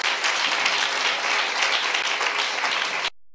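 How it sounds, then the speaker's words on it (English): Church congregation clapping and applauding during a worship service, a dense, steady burst of many hands that fills nearly the whole clip before breaking off abruptly near the end. "Clap hands for yourself."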